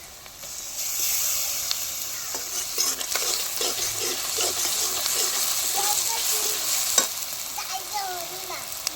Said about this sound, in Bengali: পেঁয়াজটা দেখো একটু লাল লাল করে ভাজা হয়ে গেছে। আমি এবার রসুন বাটা দিয়ে দেবো।